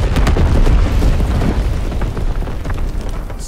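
Incendiary bomber strike in Call of Duty WWII, a dense, loud rumbling barrage of booming explosions that rolls continuously, with crackling bursts layered over a deep low roar.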